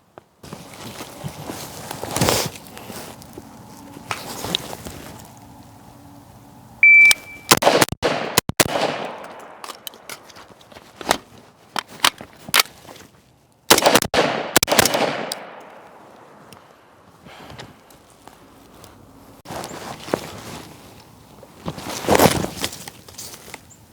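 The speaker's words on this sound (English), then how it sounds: "here's a couple clips of me running a gun" An AR-15 rifle fires in several separate strings of sharp, loud shots, single cracks and quick bursts spread across the span, with quiet pauses and faint shuffling between them.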